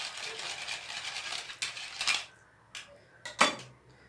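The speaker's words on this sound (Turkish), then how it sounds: "Şunu çırpıcımdan çırpayım." A metal whisk stirs tomato paste sauce in a pot, giving a few scattered scraping clinks and taps that grow sharper toward the end, moderately close.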